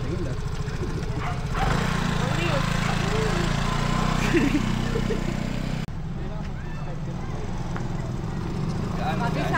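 Vespa Primavera S scooter on a test ride, its engine giving a steady low drone throughout that rises in level after the first couple of seconds, with voices talking over it.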